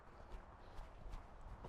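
A horse moves off into a canter, its hoofbeats thudding in a quick, regular rhythm on soft ground, faint and at a distance.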